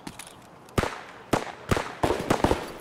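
Gunfire in the shooter Escape from Tarkov, a series of sharp, loud cracks, about five or six in irregular bursts, the first after a short quiet stretch and the rest close together, with no talking.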